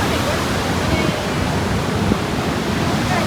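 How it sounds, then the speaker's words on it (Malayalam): Roaring cascade at Great Falls, New Jersey, heard as a dense, constant wash of falling water, close and loud, with a faint hint of voices beneath the rush. "വെള്ളം വീണ സൗണ്ട്."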